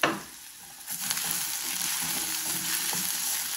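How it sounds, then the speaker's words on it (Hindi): Ginger garlic paste sizzles in a hot pan, a steady, loud crackling hiss with brief pops and some stirring, and no talking over it. "यहाँ पे मैं अदरक लहसुन ये डाल दूंगी"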